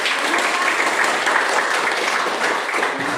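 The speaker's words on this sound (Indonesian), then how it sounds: "Ayo tepuk tangan dulu tuh semua" Classroom students break into applause during a chemistry lesson, a loud, continuous sheet of clapping with no pause, close and evenly sustained.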